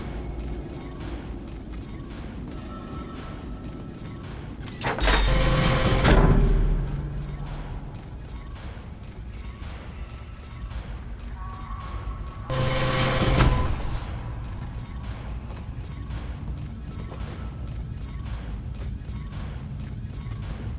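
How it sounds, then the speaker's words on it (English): A suit is welded on in the Dead Space video game with two heavy mechanical clanking bursts a few seconds apart, each rising into a loud grinding, hissing clamp over a low steady mechanical hum, with no voices. "Which means suit, which means claustrophobia, let's go. Get welded into something new, Isaac."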